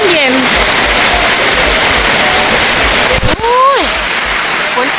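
Steady rain hisses and patters heavily throughout, while a voice speaks over it with rising and falling intonation.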